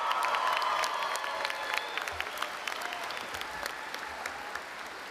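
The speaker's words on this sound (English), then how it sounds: "Graduates, I think we have to give your supporters a huge round of applause." A large commencement crowd at a National University graduation applauds, steady dense clapping with faint cheers mixed in, holding at a moderate distance throughout.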